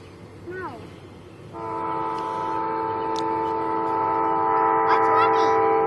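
A big train passes and sounds a long, steady multi-tone horn over rumbling wheels, preceded by children's voices.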